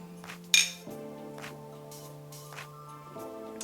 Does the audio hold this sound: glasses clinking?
yes